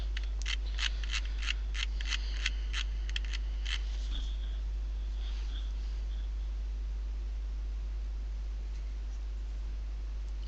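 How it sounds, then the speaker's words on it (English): A stylus drawing a straight line on a tablet gives a quick run of crisp, evenly spaced tapping scratches, close and fairly soft, then fading to a faint scrape before near-quiet hiss with a steady low hum. "I can just go straight to drawing on the line."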